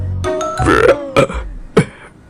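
A man burps after gulping down a glass of orange juice: a few short, throaty belches in quick succession, close and loud, with no talking.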